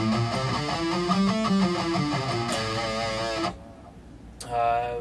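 A guitar plays a short melodic riff in the Phrygian mode, plucked, ringing notes for a few seconds, then pauses briefly before another note rings out.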